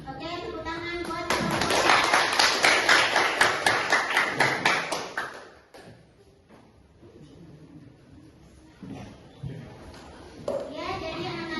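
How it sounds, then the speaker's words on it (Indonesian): A classroom of children clapping hands together in quick, regular beats, loud at first and then fading out, followed by quiet stretches with children's voices and a brief burst of clapping again. "Oke, tepuk tangan buat"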